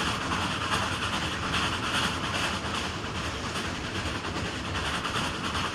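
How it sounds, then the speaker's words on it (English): Steady, loud rumble of a steam locomotive hauling old Shasta Daylight passenger cars, with continuous chugging exhaust and rail noise throughout, no voices. "leaned out the open doors to listen to the beautiful sound of the exhaust"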